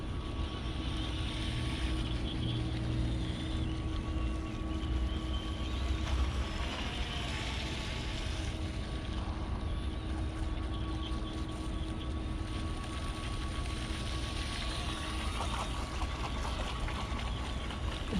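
A TunnelJet boat running and turning on water, a steady distant motor hum with a constant tonal whine, fairly faint and even throughout with slight swells as it turns.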